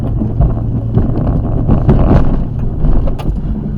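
A snow removal vehicle with its blade lowered and angled to the right drives along a laneway, giving a steady, loud low engine rumble with wind buffeting the microphone throughout.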